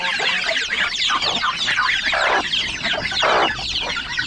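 Chickens cluck busily near newly hatched chicks on a farm, with dense overlapping clucks and chirps from close by throughout.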